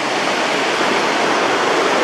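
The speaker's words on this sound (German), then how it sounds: "hier durch ist dieser schöne Fluss" River flowing through a sandstone gorge at Hřensko in Bohemian Switzerland, Czech Republic, a steady broadband rush of water heard close and loud without a break, with no voices.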